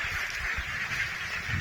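A brief burst of ducks quacking together on a pasture, nasal calls overlapping in a continuous chatter at moderate loudness.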